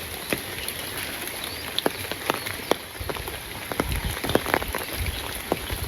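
Rain falling steadily on a village, a close, continuous patter with scattered louder drops striking nearby surfaces, and no voices.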